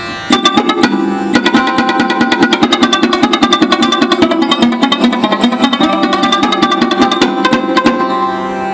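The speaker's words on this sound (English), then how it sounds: "So this is also sound of sarod, but with fingertip." A sarod plucked with the fingertip rings out in a rapid, rhythmic run of bright twangy strokes over a sustained drone, played solo and close.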